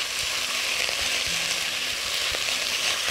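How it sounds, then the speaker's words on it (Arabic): Cooked rice frying in butter that has just browned, a dense, constant sizzle with occasional soft scrapes and taps as it is stirred in the pan. "أول ما الزبدة بتاعتي تبتدي تبقى بنيها شوية هنزل فيها الرز"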